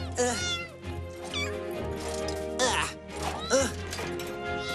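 A kitten in a cartoon meows several times in high, wavering cries, loud and close, over music and speech.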